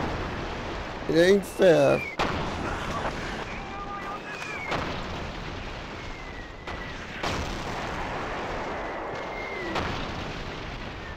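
Mortar rounds and explosions in the Battlefield FHSW video game: a few heavy booming blasts land a couple of seconds apart, moderately loud amid a constant battlefield rumble, with someone speaking briefly near the start.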